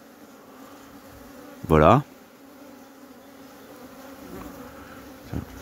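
A single bee buzzes loudly and briefly right up close at a beehive, one short droning burst over a quiet outdoor background with faint colony hum, and a brief spoken word follows.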